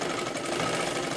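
A sewing machine running a double line of stitching on a boat-neck katori blouse, giving a fast, steady mechanical whirr and clatter that stays close and even from start to finish.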